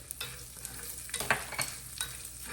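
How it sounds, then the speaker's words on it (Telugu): Chana dal, urad dal and mustard seeds fry in hot oil with a steady soft sizzle, while a spoon stirs and scrapes the pan in a few distinct clicks, close and fairly quiet. "ఈ శనగపప్పు మినపప్పు కొంచెం వేగుతుండగా ఆవాలు వేసాయి."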